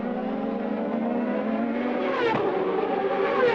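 Paul Tracy's CART race car drives round the Australian street circuit in 2000, its engine a loud, steady high whine that drops sharply under braking and then climbs again as it accelerates out of the corner.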